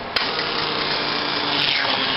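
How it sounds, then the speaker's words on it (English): An immersion (emulsion) blender whirring steadily through apple sweet potato soup, a loud continuous motor buzz with a gritty churning texture and no pauses, close up with no talking. "And now I'm going to take my emulsion blender"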